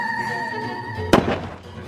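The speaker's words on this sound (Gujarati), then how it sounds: "જો ભાઈ ટેટો ફોડવા જાવું હું" A Diwali firecracker bursts once with a sharp, close bang, after a sustained tonal hum beforehand, and the bang's noise fades out over the next half second.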